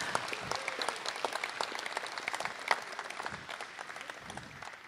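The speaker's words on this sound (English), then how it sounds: "give Kara a round of applause for what she's able to do while we're talking" Scattered audience clapping at a community visioning meeting, individual claps distinct and irregular at moderate distance, fairly quiet and thinning toward the end.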